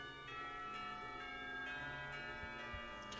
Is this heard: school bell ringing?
yes